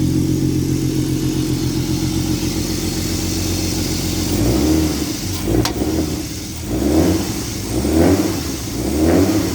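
A turbocharged BMW E36 drift car with an M50 engine idles roughly just after a cold start, a loud, lumpy, uneven rumble that hunts and surges in irregular pulses up close.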